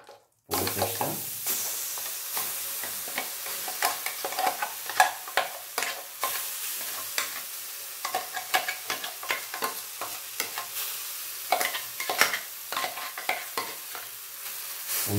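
A spoon scrapes and stirs amla gooseberry paste in a hot pan while it cooks into jelly, with steady repeated scraping strokes and a soft sizzle underneath, close and moderately loud, with no talking.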